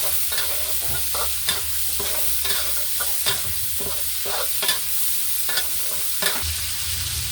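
Pork belly stir-fried with garlic in a hot pan for a Thai cabbage dish, a constant close sizzle broken by repeated sharp scraping and clanking strokes of a spatula at an uneven rhythm.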